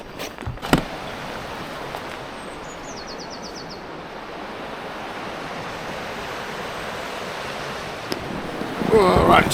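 White water on the River Don heard as a steady, broad rushing roar of moving water, even and continuous throughout, with a brief wind buffet and a louder surge near the end.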